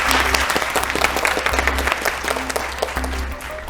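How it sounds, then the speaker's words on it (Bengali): A studio audience at a Bengali family game show claps loudly and continuously, a dense burst of applause that fills the whole moment. "জোরে হাততালি একটা।"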